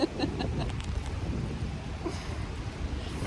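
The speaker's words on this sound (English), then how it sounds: "I don't know if you can hear the wind, but we're out for a windy morning family walk" Gusty wind on a morning family walk outdoors, buffeting the microphone as a steady low rumble for a few seconds, with no talking.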